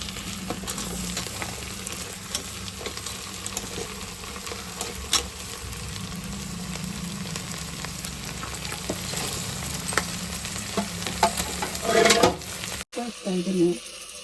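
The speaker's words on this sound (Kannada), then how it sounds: "ಏಡಿಕಾಯಿನ ಒಗ್ಗರಣೆಗೆ ಹಾಕ್ತಾ ಇದ್ದೀನಿ." Crab pieces, washed and rubbed with turmeric and salt, go into an onion tempering for village-style crab sambar, sizzling steadily up close with spatula stirs and scrapes, ending in a brief clatter.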